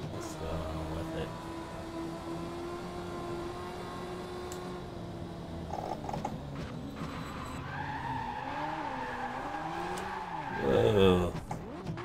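Powerful race cars in Victory: The Age of Racing, a steady engine drone that turns into wavering tire squeal and skidding toward the end, with someone talking over it.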